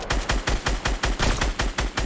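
Rapid automatic gunfire from players fighting in Fortnite, about a dozen evenly spaced, punchy shots in a steady rhythm, loud and close, with no talk.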